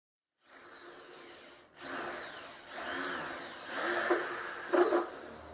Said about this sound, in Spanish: Para esta perforación utilizaré una broca de 3/8 con avellanador para que cubra la cabeza del tornillo.